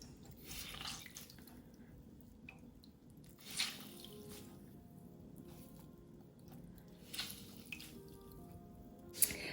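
Soaked dahi vadas gently squeezed by hand to press out excess water, giving soft wet squishes and light drips at close range, with a few brief louder squelches over quiet kitchen background.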